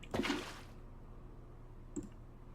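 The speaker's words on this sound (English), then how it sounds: "top up the water." Water topped up in a modded video game: a short squishy liquid splash at the start, then a faint drip-like click near the end, quiet and alone.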